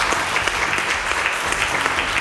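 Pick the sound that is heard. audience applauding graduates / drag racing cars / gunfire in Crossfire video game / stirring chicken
audience applauding graduates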